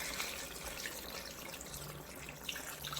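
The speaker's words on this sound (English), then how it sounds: "So now I'm going to add some bit of water and cover" Water is poured into a pot of simmering chicken stew, a faint, steady splashing trickle with a few soft drips, running continuously and alone.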